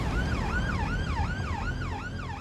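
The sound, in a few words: ambulance siren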